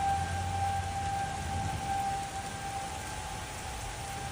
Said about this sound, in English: Sounds like tornado sirens going off.